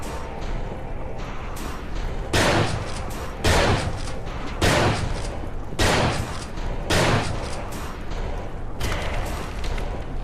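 Shotgun fire in a Silent Hill-inspired horror video game, about six heavy, evenly spaced blasts roughly a second apart, each ringing briefly over a low, steady ambient drone.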